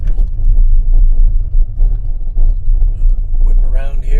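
A car rolls slowly into a muddy creekside parking area, its low engine rumble and tire noise steady and close throughout, with a brief squeak or chirp near the end.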